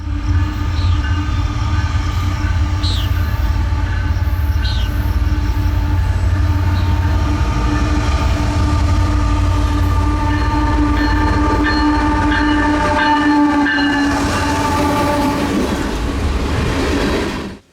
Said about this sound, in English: the bright headlights of a solo Gevo-led oil train came into view